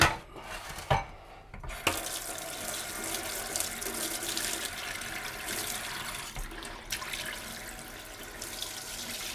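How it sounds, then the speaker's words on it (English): Tap water running over eggs to rinse them in a kitchen sink, a steady close splashing flow after a few handling clunks at the start. "So with my eggs, I always rinse them under water."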